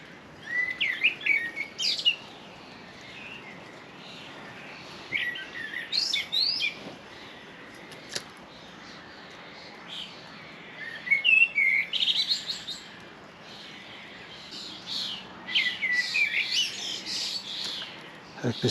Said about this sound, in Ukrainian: після дощу гарно співають пташки.